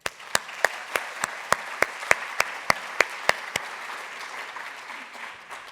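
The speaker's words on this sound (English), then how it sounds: "I would really like to give an applause of all of them" An audience applauds at the Tiqets Remarkable Venue Awards ceremony at a tourism summit, with a steady bed of clapping. Sharp, evenly spaced claps stand out in a regular rhythm before it thins and fades toward the end.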